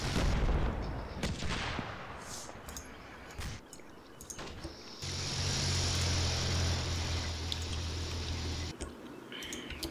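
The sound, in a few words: artillery fire from video game Combat Mission Black Sea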